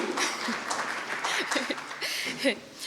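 An audience at a TikTok creative awards ceremony applauds in a dense, steady patter of many hands, mid-distance and moderately loud, with faint voices mixed in.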